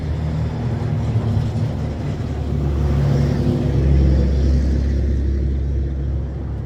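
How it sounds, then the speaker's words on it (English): A truck passes on a road as a continuous low rumble that swells toward the middle and then slowly fades. No one speaks over it. "let this truck go by here one more time so I can close"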